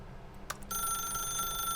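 A telephone rings in The Stanley Parable: a faint click, then a sustained bright electronic ring starts partway through and carries on steadily to the end, with no speech.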